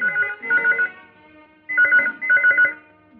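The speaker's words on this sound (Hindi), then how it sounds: "शाले जी, रोहित को फोन लगाओ।" Telephone ringing indoors, two clear bursts of rapid electronic trilling separated by a short pause, each made of a few quick pulses, loud and close with nothing else heard.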